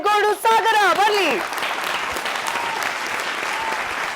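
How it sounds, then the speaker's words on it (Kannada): An audience applauds loudly to welcome a singer onto the stage of a televised Kannada classical singing reality show. The clapping follows a brief sung or musical tone at the start and stays steady and dense to the end. "ಜೋರಾದ ಚಪ್ಪಾಳೆಯೊಂದಿಗೆ ವೇದಿಕೆ ಮೇಲೆ ಬರ್ಮಾಡ್ಕೊಳ್ಳೋಣ"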